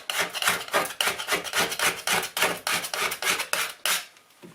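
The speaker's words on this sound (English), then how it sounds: "we're going to see if we can scrape that off" A razor-sharp, thin scraper rasps over a kitchen worktop in quick repeated strokes, each a short gritty scrape in a steady rhythm, close and fairly quiet, trailing off at the end.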